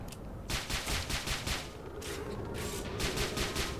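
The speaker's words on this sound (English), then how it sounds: "So I've switched back to the plasma gun because, well, I'm not getting into their base." Plasma gun shots in the Tribes Ascend video game, a run of about nine sharp rapid bursts in two clusters over a constant low rumble of game ambience.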